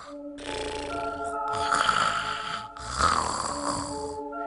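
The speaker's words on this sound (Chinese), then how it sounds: "三人躺下没多久，一会儿就鼾声大起" A man snores loudly and steadily while asleep in a cramped shared bed, harsh rasping breaths rising and falling in long repeated cycles with no talking.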